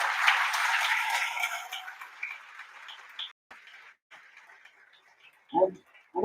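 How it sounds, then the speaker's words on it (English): Audience applause for panelists at a trade conference, a broad wash of clapping at the start that thins out and fades into scattered claps and quiet room noise. "may I invite for a beautiful round of applause for our panelists here"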